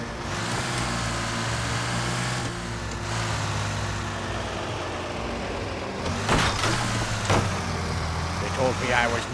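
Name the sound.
fire truck engine being driven, video game LA Noire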